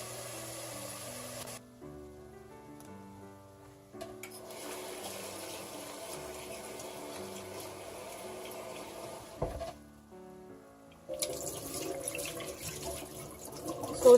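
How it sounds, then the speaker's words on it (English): Rice being washed in water to rinse away its starch for a Ghanaian braised oil rice dish, a soft watery swish running beneath steady background music with brief pauses. "So here I'm just simply washing away all the starchiness from the rice."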